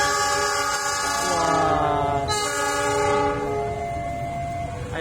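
A passing train at Yogyakarta station sounds a long, loud, multi-tone horn over the rumble of rolling railcars, with the horn's pitch sliding as it goes by and faint voices beneath.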